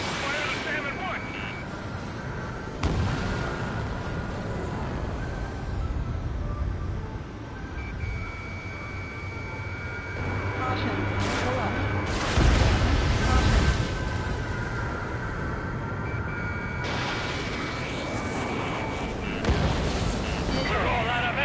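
Gunfire and explosions during aerial combat in Ace Combat 7, a dense roaring wash of engine noise and booming blasts, with several sharp bursts and heavy impacts under frequent radio chatter voices.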